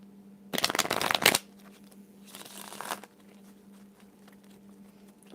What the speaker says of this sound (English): I gotta shuffle these up